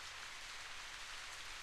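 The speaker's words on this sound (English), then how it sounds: "It's raining." Steady rain in a video game, a dense, even hiss of drops on surfaces that continues without pause, fairly faint and with no talk.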